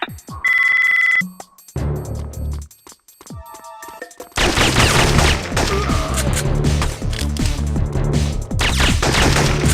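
Gunfire rattles through a Syphon Filter action sequence, with dense, loud bursts that take over after a few seconds of ringing electronic tones and scattered clicks.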